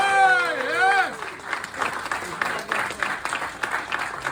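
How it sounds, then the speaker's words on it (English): Following a brief spoken line, an audience breaks into steady applause for a judge, a dense patter of many hands clapping at moderate distance with light crowd murmur underneath. "Let's give him a great round of applause."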